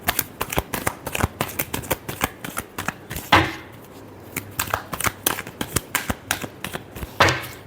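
Tarot cards being shuffled by hand in quick riffling bursts, crisp and close, with brief pauses between runs of rapid card flicks.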